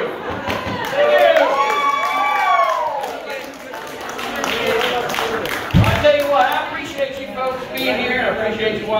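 Audience applause and cheering after a traveling magician's show at Sugarlands Distilling Company, a steady wash of clapping from a crowd with voices and a loud thump midway.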